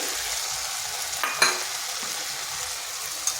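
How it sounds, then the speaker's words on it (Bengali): Potatoes going into a pan with tomato and spices for a vegetarian fig dish, a soft steady sizzle with a sharp clatter of stirring midway. "টমেটোটাও একটু মশলার সাথে কষিয়ে নিলাম দিয়ে দিচ্ছি আলু"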